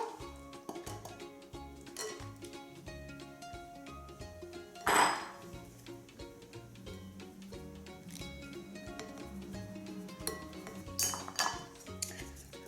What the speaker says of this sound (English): Let's sieve the flour.